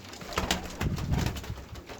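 Pigeons coo softly with low, throaty calls, several birds close by in a coop, along with rustling and flutter-like noises.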